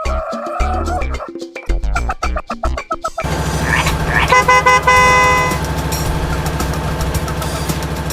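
A little blue truck sounds its horn in short toots over a steady idling engine hum. The horn follows a few seconds of quick, bouncy clucking and carries on loud and close to the end.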